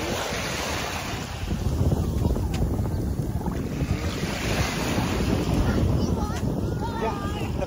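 Ocean waves wash steadily at the shore with heavy wind buffeting the microphone, loud and continuous throughout.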